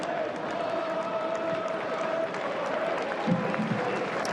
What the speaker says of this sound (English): we get the minute's applause as the crowd stand on their feet for Dylan Tombides